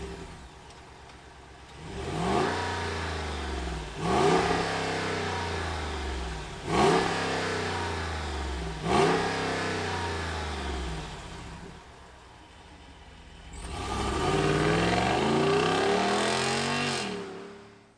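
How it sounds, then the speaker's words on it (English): A 2022 Jeep Grand Wagoneer luxury SUV engine fires up and is revved repeatedly, five or six rising throttle blips that settle back to idle between them, followed by one longer rev, close and loud with no talk. "let's fire up this beast and hear what it sounds like"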